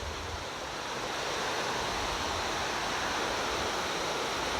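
A swollen mountain stream in the Gapyeong valley rushes loudly after heavy rain, a dense, unbroken roar of churning water with no voices.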